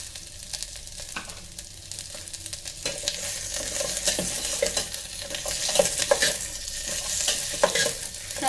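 Onion and green capsicum fry and sizzle in an electric kettle while being stirred, a steady close crackle with irregular scraping strokes that grows slightly louder toward the end.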